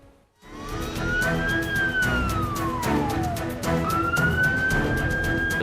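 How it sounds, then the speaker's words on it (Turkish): An ambulance siren wails up and down in long rising and falling sweeps, loud and close, over rumbling Istanbul traffic noise. "sireni duyuyoruz, aracı görmüyoruz."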